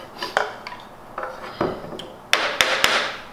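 Several sharp metallic taps from a small steel hammer striking a hand plane's steel blade, irregularly spaced, close and ringing, with a cluster of louder strikes near the end.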